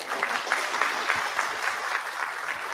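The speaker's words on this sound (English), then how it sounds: "So if you would give them a warm round of applause." Applause from an event audience for the sponsors, a steady, fairly soft patter of many hands clapping throughout, heard from a little distance with no voices on top.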